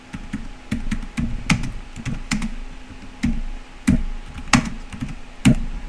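Typing on a computer keyboard while filling in an online form: irregular, close, crisp key taps in small clusters with brief pauses, alone against a faint room hum.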